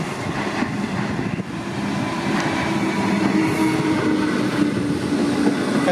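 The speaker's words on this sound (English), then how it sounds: "Flat spot on the wheel, that doesn't sound good anymore." An old Comeng electric train on the Frankston line rolls past close by with a flat spot on a wheel, producing a loud continuous rail rumble with rhythmic clatter and a faint wheel squeal.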